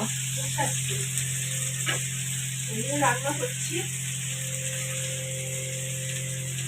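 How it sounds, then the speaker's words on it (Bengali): Onions fry in a pan with a steady, even sizzle running throughout at moderate loudness, under a constant electrical hum, with brief faint voices partway through. "এই যে পেঁয়াজ ভাজছে এখন"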